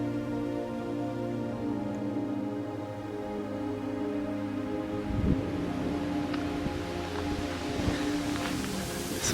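Strong wind gusting across an outdoor cemetery, a continuous roaring rumble buffeting the microphone, with occasional sharper gusts and crackles over a steady low drone.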